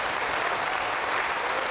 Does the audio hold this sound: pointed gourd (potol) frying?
no